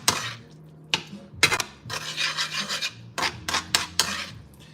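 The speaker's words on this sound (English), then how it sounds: "you're gonna take this and put it right into here and start stirring" Pasta carbonara sauce being stirred in a pan, with cream being worked into the mix: repeated scraping, rasping strokes of a utensil against the pan in irregular bursts, close and fairly loud with no talking.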